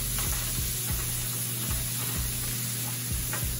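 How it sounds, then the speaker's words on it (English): Green peppers saute in the leftover oil from browning lemon-pepper marinated halibut, giving a steady close sizzle with periodic stirring scrapes in a pan, no voices. "We just want to saute these a little bit, sweat them down a little bit"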